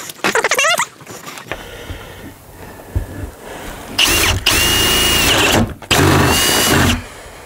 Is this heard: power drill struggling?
yes